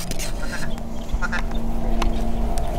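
A mallard duck call blown by a hunter gives a quick run of raspy, nasal quacks imitating a mallard, loud and close, with a person talking faintly in the background.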